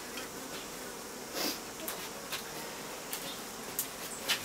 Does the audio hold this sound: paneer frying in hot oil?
no